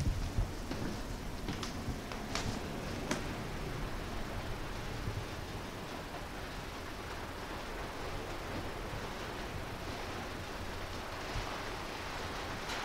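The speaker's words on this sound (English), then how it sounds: "That sound you hear is rain." Steady, broadband hiss of heavy rain, muffled as if heard from inside, continuing evenly throughout with a few faint ticks early on.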